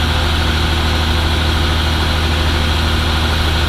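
A farm tractor idles steadily with its PTO engaged, driving an Accu-Bale accumulator behind a Vermeer baler; a constant low engine drone with a mechanical hum runs through the whole stretch, fairly loud and without talk.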